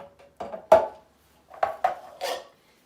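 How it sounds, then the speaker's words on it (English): Canned chickpeas tumble out of two cans into a blender for homemade hummus, giving a few separate clattering knocks and thuds of beans and metal against the jar, close and clear with short pauses between them. "I'm going to put the 2 cans of chickpeas into the blender."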